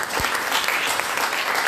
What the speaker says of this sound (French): Nous applaudissons notre Jésus